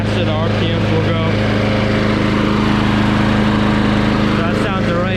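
Small push lawn mower engine running steadily at raised revs after a throttle adjustment, a continuous near buzzing drone with someone talking over it.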